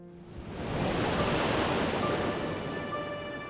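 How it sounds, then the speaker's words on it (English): Ocean waves wash and lap against a boat's bow at sea, a steady broad rushing surge that swells and stays loud throughout, with no voices. "Water lapping over its bow"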